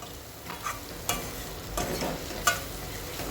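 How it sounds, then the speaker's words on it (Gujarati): A spoon stirs tomatoes in a hot pan for a potato curry. A soft, steady sizzle runs throughout, and a few distinct scraping strokes against the pan are heard up close, with no voices. "બરાબર મિક્સ કરીશું અને ટામેટાં નરમ થાય ત્યાં સુધી ચડવા દઈશું."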